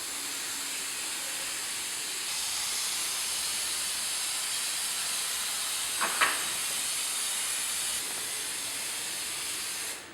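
Adhesive sprayed onto a Trim-Tex plastic bead and plasterboard wall in a steady, close hissing spray that runs almost the whole time, with a brief faint knock partway through.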